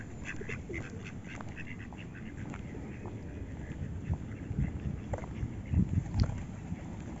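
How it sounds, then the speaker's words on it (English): Ducks and pigeons squabbling at a park pond in Baylis Park, Slough: scattered quacks and rustling bursts over a low outdoor rumble, growing busier and louder toward the end. "usually people come here to feed these pigeons and ducks, and I guess they are fighting right now."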